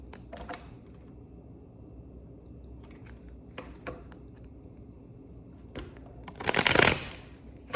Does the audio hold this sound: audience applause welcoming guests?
no